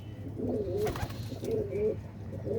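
Pigeons coo close by in low, rolling calls, three drawn-out coos spaced about a second apart, with a brief flutter between.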